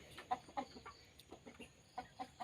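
Chickens penned up on a rural farm cluck in short, scattered bursts, several birds calling near the microphone over a faint background with no talking.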